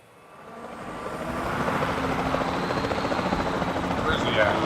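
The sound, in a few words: helicopter flying nearby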